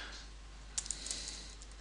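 Quick light taps on a computer keyboard while entering text in Visual Studio, a short cluster of soft clicks against a quiet room hum.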